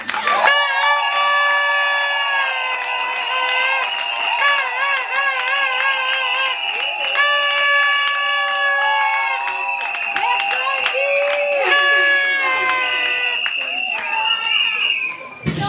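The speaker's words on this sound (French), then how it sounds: "j'inviterai à M. Patrick à se mettre debout sur vos acclamations" Guests at a civil wedding cheering loudly with sustained, high-pitched vocal trills and shouts that rise and fall in waves, with bursts of crowd noise in between.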